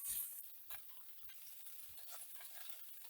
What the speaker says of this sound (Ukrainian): Сало викладаю на розігріту сковорідку